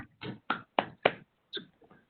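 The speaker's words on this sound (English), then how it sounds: "Quiet claps." A handful of soft claps at a board meeting: several short, quiet taps in a loose rhythm, the last few fainter and sparser, with no talking over them.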